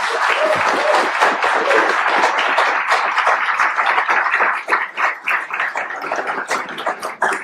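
A conference audience at a talk on social reform in Brazil applauds a speaker as he is introduced; the close, full clapping is dense at first, then thins into scattered claps.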